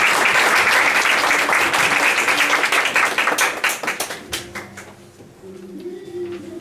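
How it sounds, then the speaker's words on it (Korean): A church congregation claps loudly and densely at a sermon gathering, the dense applause thinning into scattered claps and dying away into quiet room noise. "큰 박수로 맞이해 주시기 바랍니다"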